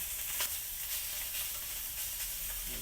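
Fish pieces sizzle loudly on a hot grill after being flipped, a steady close hiss of frying with a few brief scraping accents, and no talking over it.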